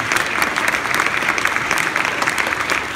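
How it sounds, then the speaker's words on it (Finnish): Audience at a gala event applauds steadily, a dense even wash of many hands clapping for the whole short stretch, with no talk over it. "Aplodit sinne."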